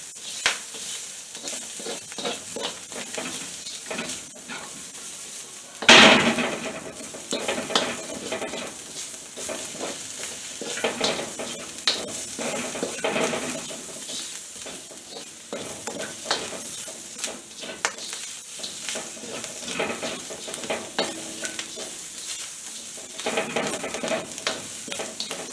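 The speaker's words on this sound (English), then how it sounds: "Stir frying our mushroom." Mushrooms stir-fried in a pan for noodles: steady sizzling and frying with stirring and scraping throughout, plus one sharp clatter of utensil against pan near the start.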